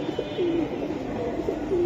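Silver Giribaz pigeons coo close by in soft, rolling phrases that repeat a few times against a steady background murmur.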